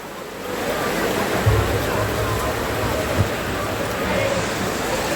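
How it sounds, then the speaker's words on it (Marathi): Rain falls during an outdoor Dahi Handi event as a steady, loud wash of hiss that fills the air, with only faint voices and bumps in the background. "पाऊसही पडतोय आणि अशा वेळेला पाय सटकण्याची भीती असू शकते"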